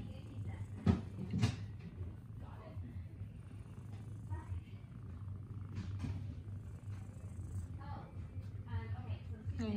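A soft, steady cat purr rumbles close by throughout, with a couple of brief clicks and knocks near the start and faint household noise.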